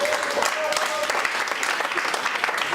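Church congregation clapping loudly and steadily in praise of the Lord, dense close applause with voices mixed in throughout.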